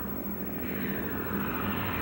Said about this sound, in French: Le Curtiss Wright Sparrowhawk est sélectionné comme avion de reconnaissance et de chasse.